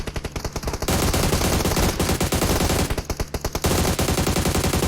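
Rapid automatic gunfire in PUBG Mobile, with dense bursts of shots sounding close and loud. The firing runs almost continuously, broken by brief pauses.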